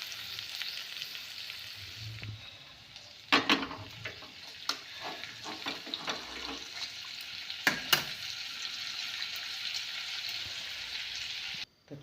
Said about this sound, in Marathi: बटाटा छान मिक्स करून घेणार आहे